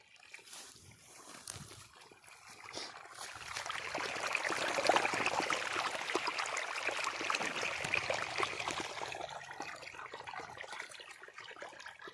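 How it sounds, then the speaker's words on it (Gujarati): Irrigation water running through a channel into a farm field, a continuous trickling and sloshing flow that swells in the middle and eases toward the end, close by and fairly quiet, with faint background sounds. "આ રહ્યું પાદલું, એમાં પાણી આપવાનું કામ ચાલુ છે મારું."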